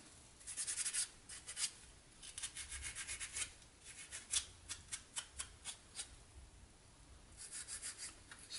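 Old dried paint being scrubbed off a prop blaster, heard as repeated dry rubbing strokes in short bursts, close and fairly quiet, with no talking.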